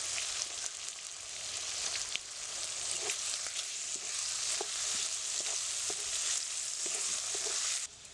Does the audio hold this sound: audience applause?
no